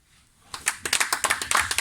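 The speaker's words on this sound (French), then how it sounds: "Applaudissements" Audience applause at an RDPC party anniversary gathering of the France Nord section: after a quiet start, a burst of close, steady clapping rises quickly and keeps a brisk, even rhythm.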